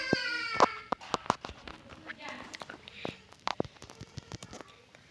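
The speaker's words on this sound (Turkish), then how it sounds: "evet başladı ağlama sesleri" An infant crying in short, broken wails amid a busy room, mixed with sharp clicks and knocks, with a voice heard briefly.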